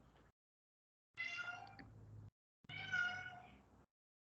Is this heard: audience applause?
no